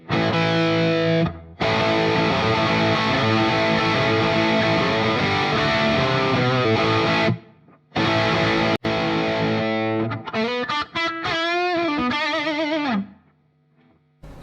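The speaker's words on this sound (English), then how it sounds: "We actually get a lot of crunch here." Loud, crunchy distorted electric guitar chords through a Mesa Boogie Mark V amp plugin's Tweed channel, ringing out with brief breaks between them, then bending notes that fade into a decaying tail.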